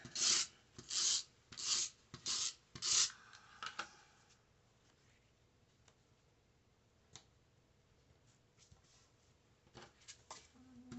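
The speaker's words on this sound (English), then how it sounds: "We'll use the tape runner for these." A tape runner lays adhesive onto paper in five quick raspy rolling strokes, evenly spaced and close, followed by quieter light handling clicks and taps.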